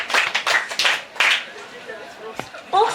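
Brief burst of clapping from a small audience for a student at a reading marathon session, a few quick claps early on that die away into quieter room sound with a voice near the end.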